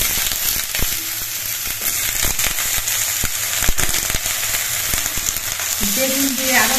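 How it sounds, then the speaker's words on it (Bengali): Potatoes and eggplant fry together in a pan, giving a dense, crackling sizzle with sharp pops and the clatter of stirring throughout. The sound is close and fairly loud, with no talking. "বেগুন দিয়ে আরো কিছুক্ষণ ভেজে নিতে হবে।"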